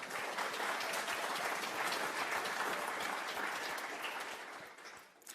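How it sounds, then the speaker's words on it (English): A conference audience applauds the project teams at an opening session, with dense crowd clapping that is steady at first and then tapers off near the end. "So, round of applause really quickly for the teams."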